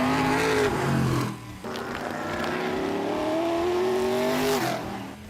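NASCAR race car engines roar close by, loud sustained revving with rising pitch through gear changes, one brief dip around a shift and a climbing whine that drops off at the end.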